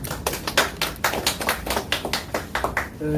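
Audience applause for candidate Hwang Kyo-ahn at a meeting: sharp, separate claps in a steady, fairly quick rhythm, close by and unaccompanied by speech.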